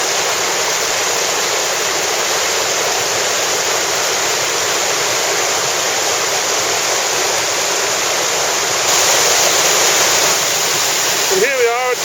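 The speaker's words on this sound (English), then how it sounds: "A bit closer to the waterfall now." A waterfall near Helm Crag roars as a loud, steady, close wash of rushing water. Near the end a brief voice is heard faintly under the noise.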